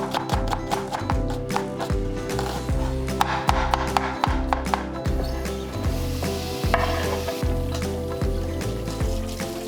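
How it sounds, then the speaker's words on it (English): Chopped onions and garlic sauteing in avocado oil in a pan, a continuous sizzle broken by repeated scraping and stirring knocks of a utensil, close and fairly loud without speech. "sauteing them in this pan with some avocado oil"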